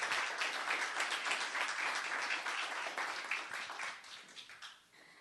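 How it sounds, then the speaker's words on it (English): A council meeting audience claps in a round of applause, a dense, steady patter of many hands heard at a moderate distance, fading out over the last second. "Let's have a round of applause for Inderlee, and welcome."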